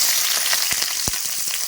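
Onions hit hot coconut oil in a pan for a Kerala squid roast, giving a loud hissing sizzle with a few sharp crackles and pops over a brief stretch.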